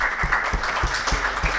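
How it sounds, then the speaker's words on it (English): Audience applause at a CSR awards ceremony in India, steady clapping from a crowd with a few sharper claps standing out, short and fairly loud. "Can we have a huge round of applause for the team?"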